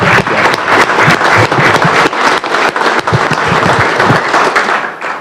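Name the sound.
audience applause in the Alabama Senate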